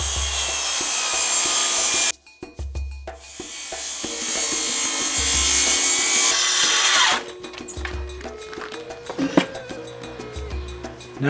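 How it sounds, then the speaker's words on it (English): Hand saw cutting a slot in a wooden pallet plank, loud steady rasping strokes in two long bursts with a short pause between, then quieter scraping and knocks as the cut ends. "I just wanted to cut a slot in the top plank which is nearest to me"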